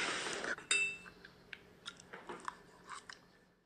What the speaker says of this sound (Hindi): अब मैं उबले हुए आलू खा रहा हूँ, उसमें मैं कुछ भी ऐड नहीं करूँगा